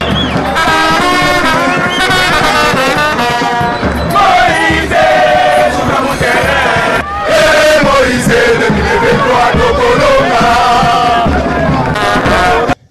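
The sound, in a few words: crowd of party supporters cheering their leader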